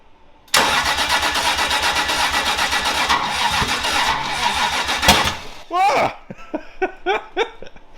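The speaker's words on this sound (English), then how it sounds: "That could have been like an intake backfire" A 2JZ engine swapped into a BMW E36 cranks loudly on its first start attempt for about five seconds, then gives a sharp pop like an intake backfire, followed by voices shouting and laughing.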